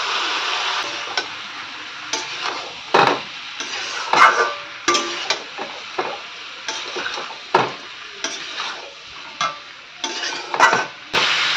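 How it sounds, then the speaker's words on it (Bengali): Turmeric, cumin and chili powder stir-fried in a pan, a steady close sizzle broken by frequent sharp scrapes and clicks of the spatula against the pan, irregular and fairly loud with no talking. "এবার ভালো করে কষিয়ে নেব।"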